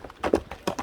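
A horse's hooves clip-clop in a quick run of irregular knocks, fairly close and moderately loud.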